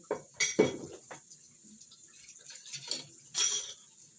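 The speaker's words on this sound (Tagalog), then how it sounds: "Marami-rami itong hugasan ko." Clinks and clatters of cutlery and dishes being handled, a few sharp bursts separated by quieter stretches with faint running water.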